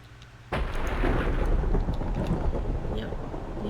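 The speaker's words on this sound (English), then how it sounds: "And, well, that was thunder." Thunder in the video game Minecraft: a sudden loud rumbling crash breaks in after half a second of quiet and rolls on steadily, heavy and close, with rain-like hiss beneath it.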